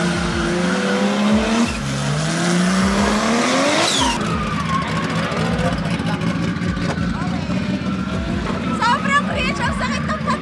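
A 750hp drift car sliding sideways at a drift fan day event, its engine roaring and tires squealing in long rising and falling whines, loud and close throughout with a crowd murmuring in the background.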